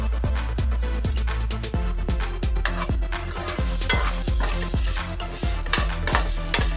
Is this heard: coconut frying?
yes